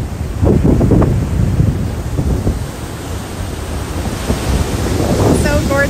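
Ocean waves break along the northern coast of Grenada, a broad roar of surf with heavy wind buffeting the microphone, swelling and easing over several seconds, with faint voices underneath.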